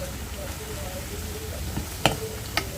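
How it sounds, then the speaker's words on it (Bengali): Ash gourd (chal kumra) leaves frying in a pan, a steady soft sizzle running throughout with a couple of sharp clinks of utensils near the end. "একটু শাক যেটা চাল কুমড়া শাক এটা ভালো করে হলো ভেজে নিতেছি"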